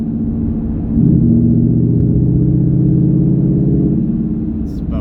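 A 2019 Mustang GT Premium PP1 with a 10R80 transmission pulls hard under heavy throttle, its engine rumble swelling after the first second into a loud, steady low drone that holds for several seconds before easing slightly.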